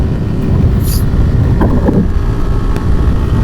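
Suzuki Gixxer FI ABS motorcycle running at speed on a highway, its exhaust a steady broadband roar smeared with heavy wind rush across the microphone, loud and continuous throughout.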